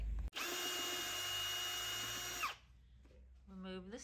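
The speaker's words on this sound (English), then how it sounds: "Remove the screws." A powered screwdriver backs screws out of a Snoo bassinet, whirring loud and steady for about two seconds and then cutting off abruptly, followed by a short voice at the end.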